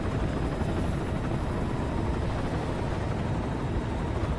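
Helicopter in the video game Metal Gear Solid V, a steady loud rotor drone with a broad rushing roar, continuous throughout and with no voices.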